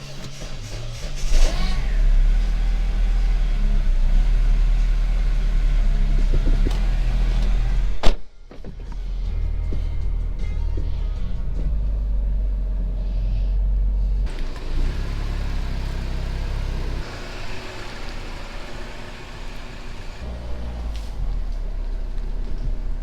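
A Mini Cooper with a Flowmaster exhaust rumbles through a test drive, a steady low engine drone from inside the car, broken by a brief clunk and a sudden drop before the rumble rises again.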